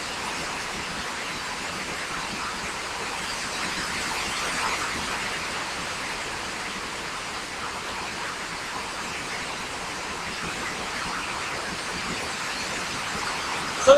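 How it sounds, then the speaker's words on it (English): Steady, loud rain pours down for the whole stretch as a dense, even hiss with no voices over it. "So this rain's pretty loud, isn't it?"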